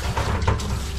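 Running water rinses shampoo off a Havanese dog during a mobile grooming session, a steady close splashing wash with a brief stronger surge midway.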